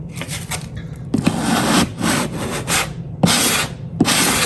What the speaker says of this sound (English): I could try to sand it down with my sponge